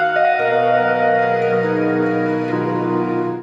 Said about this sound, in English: And the Sunlight side is going to sound like this